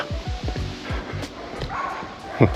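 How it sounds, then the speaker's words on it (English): Dogs at a kennel bark repeatedly in the distance, a steady run of yaps heard over outdoor crowd murmur and wind at a classic car show, with one louder bark near the end. "a couple dogs don't sound like they're too happy with each other"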